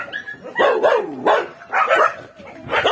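A mother dog reunited with her puppies after rescue from a forest gives repeated close whines, yips and soft whimpering barks in uneven bursts, with faint background noise between them.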